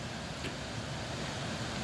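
A waterfall at dusk in Cottonwood Falls Park in Nelson, B.C., rushing as a steady, dense, unbroken roar of water with no voices.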